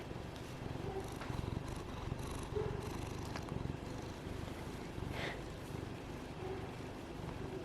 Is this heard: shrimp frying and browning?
no